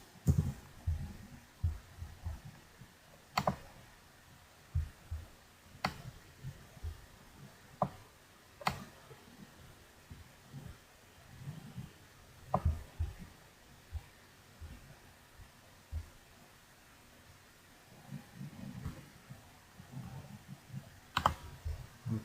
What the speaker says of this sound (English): So I'm just going to type in business.